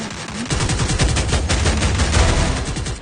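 Gunfire in a video game, a rapid burst of automatic shots firing in quick succession, loud and close, running almost unbroken for a few seconds.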